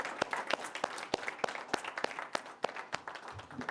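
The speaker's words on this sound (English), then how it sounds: "So round of applause, everybody, for yourselves." Applause from a forum audience: dense, steady clapping with sharp individual claps standing out, fairly quiet and distant, with no talking over it.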